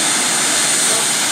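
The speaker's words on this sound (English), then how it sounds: "I guess those jet cars aren't nearly as loud as I thought they'd be" Jet car engines fire up at the Zmax Dragstrip, a loud, steady broadband roar and hiss filling the whole moment without break.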